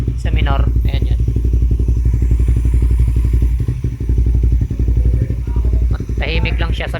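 A Raider 150 Fi motorcycle fitted with a replica Pro GP type exhaust idles at low RPM, a steady close pulsing thump with a faint rattle, while someone talks over it at the start and end.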